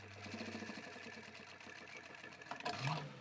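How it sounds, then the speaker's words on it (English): A sewing machine stitching a small lined fabric pouch, a steady fast mechanical whirring with a brief louder clunk near the end, fairly quiet and without talk. "we'll sew up to the pin and back stitch"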